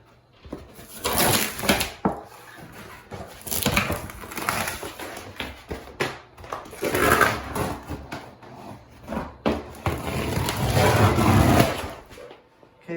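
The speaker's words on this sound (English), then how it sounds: "I'm just gonna go ahead and start pulling this floor up with the vice grips" Old glued-down bathroom linoleum flooring being pulled and torn up with vice grips, a series of irregular scraping, crackling and ripping bursts in uneven rhythm, close by, with no talking.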